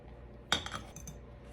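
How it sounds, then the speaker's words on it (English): A utensil clinks against a bowl while eggnog glaze for a pound cake is mixed: one sharp clink followed by a few lighter scraping taps, then quiet. "And then you're just gonna mix it together to create your glaze."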